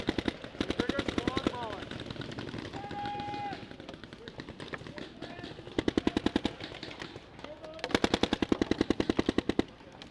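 Paintball markers firing in a paintball game with a Planet Eclipse Etha 2, long rapid bursts of sharp popping shots from close by, interrupted by short pauses and a person speaking.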